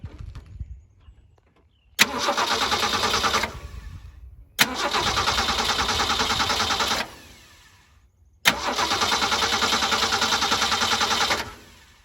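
A car engine with a radiator problem and prior knocking turns over three times in a row, each start catching with a sharp jolt, running loudly for a couple of seconds, then cutting out.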